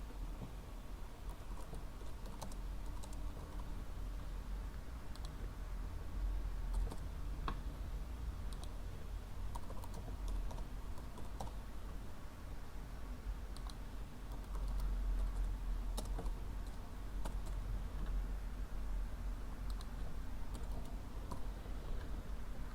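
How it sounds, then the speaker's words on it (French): Someone types an address on a computer keyboard, producing a steady, fairly quiet patter of key clicks with small pauses, over a constant low room hum and no talking. "Je vais taper mon adresse."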